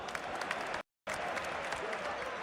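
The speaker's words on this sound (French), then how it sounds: "ils m'ont applaudi à moi là quand j'ai dit I love Semenyo" A crowd claps steadily, broken by a brief moment of silence before the applause resumes.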